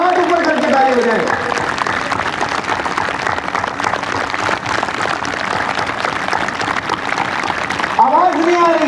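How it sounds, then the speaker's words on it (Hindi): A crowd at an outdoor yoga day event claps hard with both hands raised, a dense, rain-like wash of applause that keeps going for several seconds, with a loud voice heard briefly at the start and again at the end. "दोनों हाथ ऊपर करके ताली हो जाएगी।"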